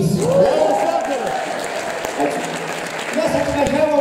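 Audience applause at a music show, a dense clapping wash mixed with voices and cheering from the crowd.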